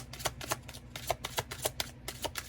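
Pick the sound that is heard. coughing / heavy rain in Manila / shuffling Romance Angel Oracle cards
shuffling Romance Angel Oracle cards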